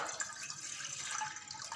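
Water runs and splashes steadily into a cooking vessel, a continuous bright pouring hiss with no voices.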